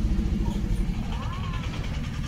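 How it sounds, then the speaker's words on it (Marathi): A tractor's engine rumbles past outdoors in a village setting, producing a steady, low drone at moderate distance that stays constant throughout the short stretch. "गेला गेला गेला ट्रॅक्टर गेला."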